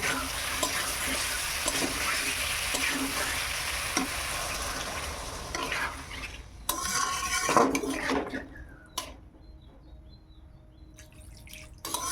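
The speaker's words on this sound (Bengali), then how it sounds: "এবার আমি জল দিয়ে দেব।" Water poured into an egg and potato curry in a pan, a continuous sizzle and gush first, then clatter of utensils against the pan with sharp metallic knocks and quieter gaps, close by and without talking.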